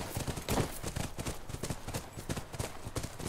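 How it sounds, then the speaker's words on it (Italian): Horse hooves in the video game The Last of Us clop in a steady, rhythmic trot, close and fairly loud, near a ranch setting. "Quello è il nostro cavallo."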